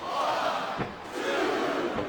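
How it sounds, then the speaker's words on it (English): Crowd chanting in the wrestling video game WWE SmackDown vs. Raw 2007 during a Torrie Wilson vs Melina ironman match, a loud rhythmic roar of many voices rising and falling in two surges. "I'm not sure I agree with what the crowd is chanting"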